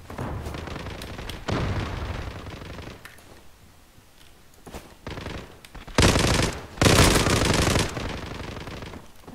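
Bursts of rapid automatic gunfire from an MPX in the video game Zula, loud and close, with short pauses between volleys and a constant low battle rumble underneath.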